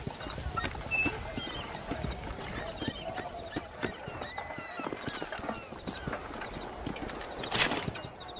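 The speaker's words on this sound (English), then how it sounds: "You see those horses to the left by the building across the street?" Horses clip-clopping in the Western video game Red Dead Redemption, a busy patter of hooves over a continuous outdoor ambience, moderately faint, with a brief louder burst near the end.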